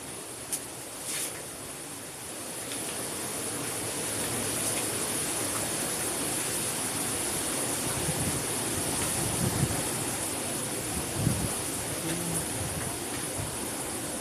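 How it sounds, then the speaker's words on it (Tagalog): Strong wind during Typhoon Rolly roars as a continuous broadband rush with low gusty surges rising and falling, and a thin steady high whine runs above it. "Hanggang ngayon, malakas pa rin ang hangin."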